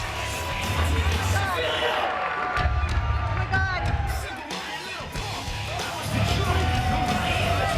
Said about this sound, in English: look at the crowd, just give him this tribute